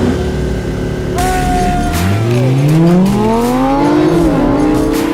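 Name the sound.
Lamborghini accelerating in a drag race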